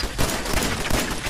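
Automated turrets firing in Fallout 4, a dense rapid burst of gunfire crackling continuously at close range for about a second, with no voices.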